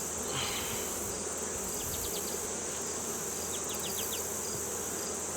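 Honey bees buzz around an open hive, a dense, steady drone of many wings close by, continuous and loud with a few sharp clicks and no talking.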